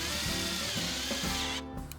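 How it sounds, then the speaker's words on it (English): Steady whirring power drill driving rust-resistant screws into a composite railing assembly, loud and close, running continuously with slight pitch dips before cutting off near the end. "Then the entire assembly is locked in position with rust-resistant screws."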